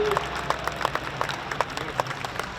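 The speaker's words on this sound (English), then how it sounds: "Give a round of applause." An air show audience applauding, a scattered crowd of hand claps with sharp individual claps standing out over a low background hum.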